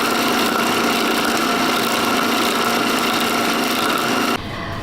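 A blender runs steadily grinding a home hair remedy mixture, a loud continuous motor whine with a constant pitch that cuts off abruptly near the end.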